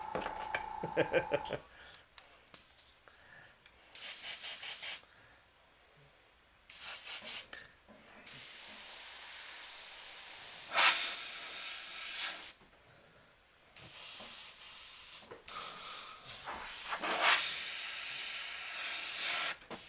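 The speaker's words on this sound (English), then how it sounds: "I got the airbrush up too high for the micron" A micron-nozzle airbrush sprays paint at too-high pressure during freehand demon painting, giving repeated close, loud bursts of airy hiss separated by brief silences, some bursts short and others sustained for a couple of seconds, with no talking.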